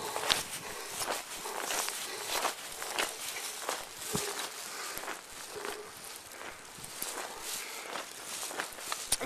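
Footsteps walk through deep snow during the 2010 Baltimore blizzard, a steady series of close, soft crunches and rustles with no talk.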